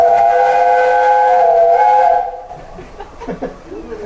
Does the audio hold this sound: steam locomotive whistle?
yes